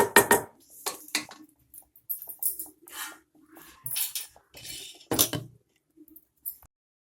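A lid goes onto a pot of simmering goat leg curry, with a series of sharp metallic clanks and clinks separated by brief silences, close and distinct.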